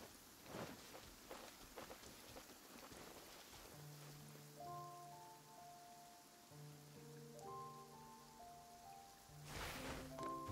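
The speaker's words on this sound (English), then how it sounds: "Starting to rain." Rain falls in Genshin Impact with thunder rumbling, a steady wash of downpour beneath soft game music tones and a few scattered bumps, fairly loud and continuous.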